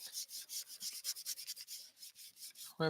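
Crayon rubbed back and forth over damp paper during card making, a faint, close, rhythmic scratchy rasp repeating in quick strokes, ending with a brief thump.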